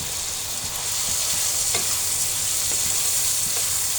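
Dried loitta fish (shutki) frying with potatoes in a pan gives a steady, close hiss of sizzling oil, broken by several soft scraping strokes as the mixture is stirred, with no talking.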